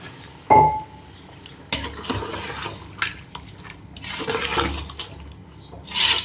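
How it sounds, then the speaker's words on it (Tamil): A glass of water is tipped into a pot of Tamil-style mutton curry (kulambu), a sharp clink and splash followed by sloshing and pouring noises, with a final bright glassy clink at the end. "நம்ம ஒரு கிளாஸ் வந்து தண்ணி ஆட் பண்ணிக்கலாம்"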